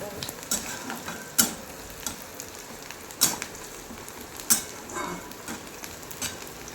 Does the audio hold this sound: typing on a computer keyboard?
no